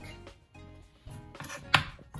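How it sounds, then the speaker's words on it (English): Garlic being roughly chopped with a knife on a board for a lentil curry: a series of soft, close, irregular chopping knocks, the last one sharper, with no talk. "I'm just starting up with roughly chopping up some garlic"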